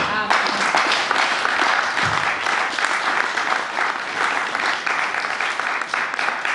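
A church congregation claps and applauds steadily for several seconds, a dense continuous wash of many hands in a large room, loud and sustained, with a voice faintly under it.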